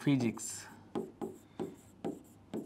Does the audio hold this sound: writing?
yes